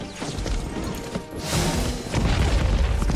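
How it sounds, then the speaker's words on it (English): Artillery bombardment in the video game Winter War, heavy booming explosions rumbling in low bursts that swell and overlap into a sustained roar near the end. "Let's bombard."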